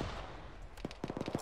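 A rapid burst of close automatic gunfire erupts in the ArmA military game, the shots snapping in quick rhythm after a moment of low background rumble.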